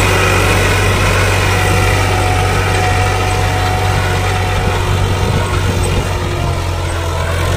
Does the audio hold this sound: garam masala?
no